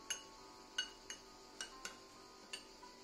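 Ingredients for a vegetable tajine stirred together in a dish, with a sparse run of light clinks and taps of a utensil against the bowl, faint and close, with no voices.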